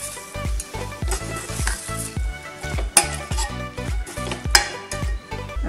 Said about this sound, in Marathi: आता हे मिक्स करून घेतलेलं आपण.